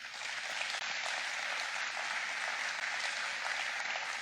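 Steady, dense applause from a large church congregation, sustained and fairly loud throughout with no break or voices standing out.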